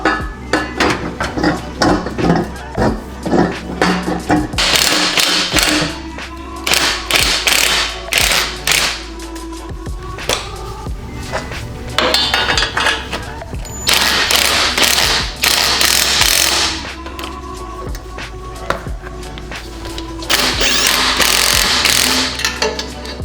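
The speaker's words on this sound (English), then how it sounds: "I got the header bolted onto the front pipe here" Ratchet clicking as a UEL header for a Subaru FRS is bolted onto the front pipe, with loud repeated bursts of metallic ratcheting and tool clatter coming in waves, close by and without speech.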